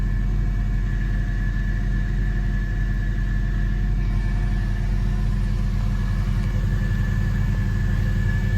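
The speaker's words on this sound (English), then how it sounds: "Idle is just beautifully smooth." A 1999 Porsche Carrera cabriolet engine idles after a cold start, a steady smooth low rumble with an even pulsing beat and a faint high whine, close and constant.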